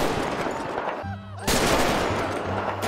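Heavy sniper rifle gunfire in a zombie-apocalypse GTA 5 mod, loud booming shots with a sharp blast near the middle and another toward the end, over a busy game background.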